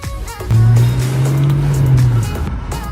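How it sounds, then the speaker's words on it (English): A turbocharged car engine revs hard and holds a loud, steady drone for about two seconds before easing off, close to the listener, with no talk over it. "Turbo flutter sounds so much sicker than a supercharger whine."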